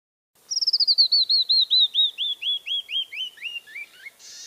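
A canyon wren sings its cascading song alone: a rapid run of clear, sweet whistled notes that slow and descend in pitch, starting bright and trailing off softer toward the end.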